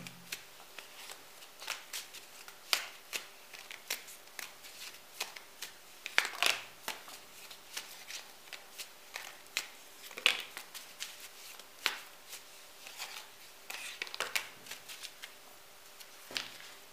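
Handmade greeting-style cards being shuffled in short crisp riffles and flicks, repeated at an irregular pace throughout, close and fairly quiet with no talking.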